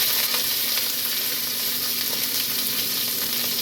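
Onions sizzling and frying steadily in a pan with curry leaves, pepper and cloves for a Tamil spiced dish, a close, continuous crackle with no one talking.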